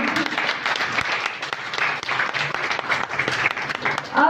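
An audience at a women's Qur'an recitation competition in Pakistan applauds a second-place prize winner receiving a shield, a sustained, fairly even round of clapping with individual sharp claps poking through and a brief rise at the very end.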